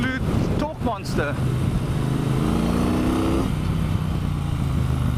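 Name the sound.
Triumph Bonneville Bobber motorcycle engine accelerating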